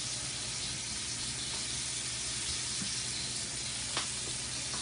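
Burger patties sizzle on a hot griddle, some topped with cheese, giving a loud, continuous close hiss that stays constant with almost no variation, and no voices over it.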